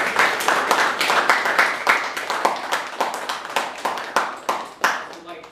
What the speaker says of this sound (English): let's give a round of applause to Liza for being here